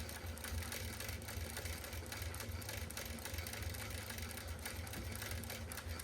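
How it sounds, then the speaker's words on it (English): A domestic sewing machine stitches across the top of a quilt's binding, its steady mechanical whir and rapid needle clatter running continuously and fairly close throughout, with no talking. "now we're going to stitch across the top"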